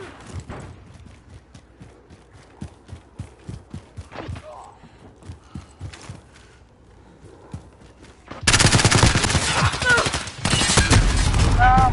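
Gunfire erupts in the Call of Duty Modern Warfare video game, starting with scattered muffled thumps, then a loud, dense burst of automatic shots and explosions that dominates the final seconds.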